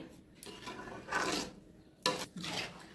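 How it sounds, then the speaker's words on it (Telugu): Carrot halwa with sugar syrup being stirred in a pan, a spoon scraping and rubbing against the metal in several separate strokes, moderately close, with no talk. "ఇక మనము బాగా కలుపుకుందామండి"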